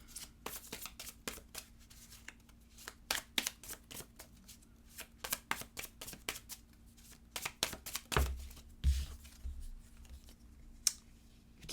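Tarot cards are shuffled in quick riffling bursts and sharp taps, close and fairly quiet, with irregular pauses and a couple of louder thumps of the deck.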